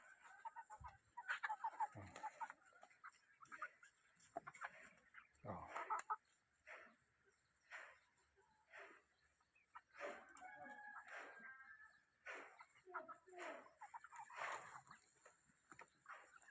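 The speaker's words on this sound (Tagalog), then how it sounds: "ito yung lalong nakuha ito yung tandang" A rooster clucks in short, scattered bursts nearby at low volume, with faint voices talking in the background.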